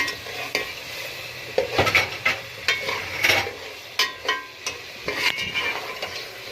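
Potatoes fry over low heat in a pan with browned onions, a steady sizzle broken by repeated scraping and clinking strokes of a stirring spoon, close and without speech.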